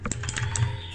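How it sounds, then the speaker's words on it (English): Loud mechanical keyboard keys being hit during Brawlhalla play, a few sharp clacky strokes in quick succession, close and clear with no talk over them. "It's like a mechanical keyboard, so it sounds like really loud."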